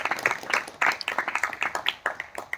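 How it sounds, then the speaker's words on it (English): A small crowd at an office outing claps in a brief burst of applause, with close, irregular hand claps of moderate loudness and no voices over them. "a big round of applause for the HR team"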